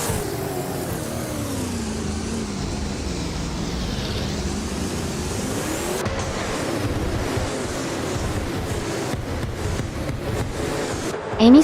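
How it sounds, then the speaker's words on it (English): A 2015 Ford Falcon FGX race car lapping a circuit, a loud continuous engine roar with rising and falling pitch as it accelerates and shifts, alone without talk. "Amy's car is a 2015 Ford Falcon FGX, and she's currently in 8th place."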